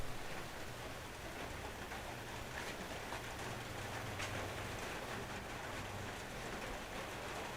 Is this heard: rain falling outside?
yes